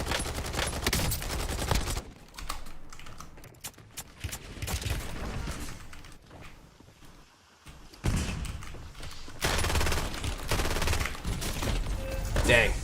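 Automatic gunfire in Call of Duty Warzone Resurgence: loud, dense rattling volleys at the start and again near the end, with a quieter stretch of softer game noise between them and light talk.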